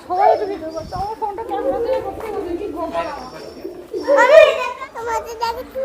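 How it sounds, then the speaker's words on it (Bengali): Pigeons cooing nearby in Murshidabad while children chatter and call out over them. "এটা পায়রা"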